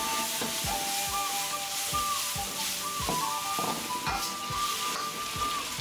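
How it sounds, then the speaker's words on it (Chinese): Bullfrog stir-fried with luffa in a wok over high heat, a steady loud sizzle and hiss with repeated scraping and clanking of the spatula against the wok in an irregular rhythm. "把牛蛙重新回锅，继续用大火快速翻炒均匀。"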